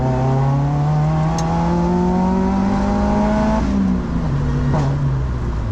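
A 2007 Chevy Cobalt SS engine revving up to about 3,500 RPM in second gear, loud and close from inside, its pitch rising steadily before dropping briefly on a shift.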